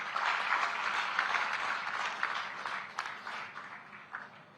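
An audience at a public event in Panchkula with Chief Minister Nayab Saini breaks into steady, moderately faint clapping that carries on for several seconds and fades slightly toward the end.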